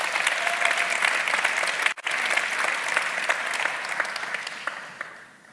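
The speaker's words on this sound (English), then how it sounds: "Please give a round of applause to our special guest on Facebook." A room full of people applauds a special guest at a talk also streamed live, steady dense clapping that cuts out briefly near the middle, then resumes and fades toward the end.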